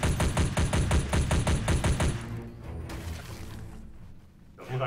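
Rapid automatic gunfire from ARK empties a whole magazine in an even, fast rhythm of loud, close shots for about two seconds, then a quieter stretch of scattered clatter follows.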